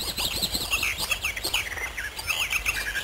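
Pied flycatchers, long-distance migrant birds of the woodland interior, call in a canopy, giving a steady run of bright, high chirps and sweeping whistled notes that stay close and clear for the whole stretch, with no voices.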